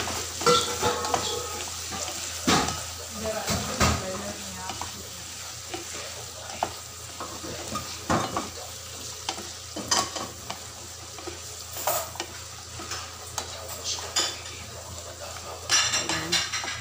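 A spoon stirs an onion, tomato and moringa mixture in a frying pan, with steady sizzling and repeated scraping and clinking against the metal, close and busy, with no speech.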